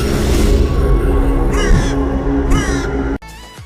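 Crows caw in harsh, repeated bursts during a demonic transformation in the Shadow Fight 3 fighting game, several loud calls over an eerie sustained drone before a sudden cut.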